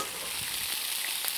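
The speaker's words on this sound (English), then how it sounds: "Sizzle." Steady, crackling sizzle of fresh ravioli frying in hot oil, continuous broadband hiss with small pops, no voices.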